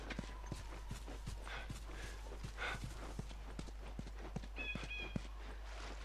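Horse hooves clip-clop in steady, evenly spaced beats in The Last of Us, a walking gait heard at moderate distance with a brief higher-pitched tone and light ambient game noise behind.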